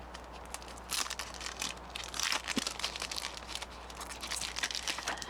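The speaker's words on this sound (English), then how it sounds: "I need to put my month sticker" A month sticker being peeled and pressed onto a reading journal page, close crinkling and rustling of paper and backing sheet, steady soft scratchy handling with no talking.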